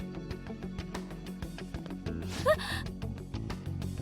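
A single short sharp gasp from a character in the Persona 5 The Phantom X video game, heard over busy, rhythmic game music and sound effects.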